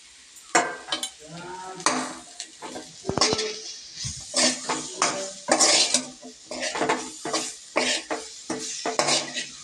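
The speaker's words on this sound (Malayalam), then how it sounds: "ഇനി ഇത് നല്ലപോലെ വഴരണം നല്ലപോലെ ഇളക്കി ഇളക്കി ഇളക്കി എടുക്കണം" Metal utensils clatter and scrape against a pan in quick, repeated strokes, sautéing tomato for a bitter gourd curry, a busy stirring rhythm close by with no voices.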